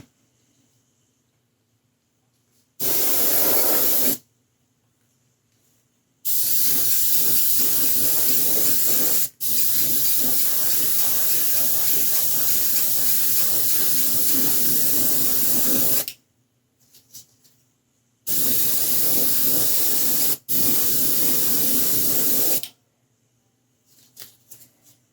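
An airbrush sprays paint onto a 1/6 scale Predator sculpture in bursts of steady, close hiss, several seconds each, with short silent pauses between them.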